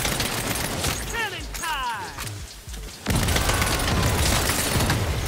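Bursts of gunfire and booming shots from the Saints Row video game, loud and dense, a sustained barrage that drops briefly then returns at full force, with someone talking over the first part.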